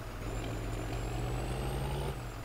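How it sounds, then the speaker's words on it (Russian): A truck in Farming Simulator 2013 idles with a steady low engine drone and a high hissing whine of air brakes running throughout, close and continuous. "Мы сейчас с вами возьмем грузовик"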